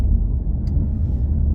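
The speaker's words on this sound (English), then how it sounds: "and then you can hear the exhaust revving away." An Alfa Romeo Giulia Quadrifoglio in race mode drops a gear, its exhaust giving a deep, loud, continuous low rumble heard from inside the car.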